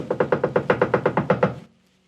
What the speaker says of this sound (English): knocking loudly.